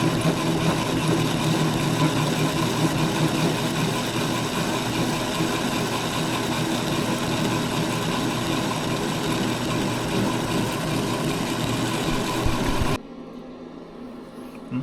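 A lathe turns down a stainless steel weld on a shaft from a WAIN ROY jaw bucket for a John Deere backhoe, giving a steady, fairly loud machine drone that cuts off abruptly near the end.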